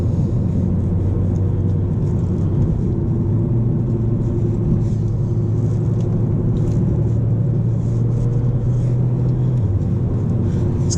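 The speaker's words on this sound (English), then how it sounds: "in sports mode, the engine has this kind of like peppy noise to it." A 2019 Mercedes CLA180 in sports mode gives a steady, close engine drone with low rumble while driving on a B road, the pitch holding fairly even with a slight drop near the end and no talking over it.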